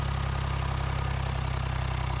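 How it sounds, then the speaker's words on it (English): An old abandoned tractor engine idles steadily after 40 years of sitting, a loud, even low rumble with a regular pulsing beat that continues unbroken throughout. "We got an idle down."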